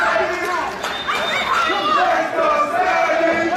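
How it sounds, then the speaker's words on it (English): A wrestling crowd at a local televised pro wrestling show cheers and roars in a sustained, building swell of voices, loud and continuous, with an announcer talking over it. "the crowd now starting to build up behind Jay Savage once again as Maxen throws"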